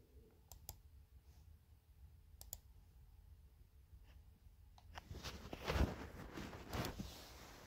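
Typing on a computer keyboard begins as a few sparse, faint clicks, then becomes a louder burst of rapid keystrokes and clatter in a quiet room.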